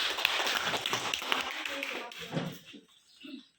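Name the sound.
audience applause for Ibu Salma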